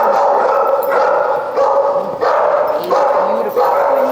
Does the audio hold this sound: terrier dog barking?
yes